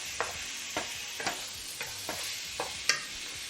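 Meat being mixed by hand or spoon with Knorr bouillon seasoning, bay leaves and thyme, a series of soft, spaced scraping and clacking strokes about every half second, quiet and close, with no talk.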